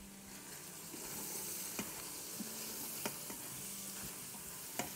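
Soya chunks frying with garam masala in a pan, giving a steady close sizzle with occasional soft clicks and scrapes from stirring, and no talking.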